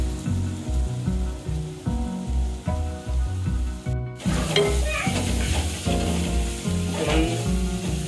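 Ram's head curry, Telangana style, tipped into a hot pan: a loud, steady sizzle and crackle flares up midway and keeps hissing over background music.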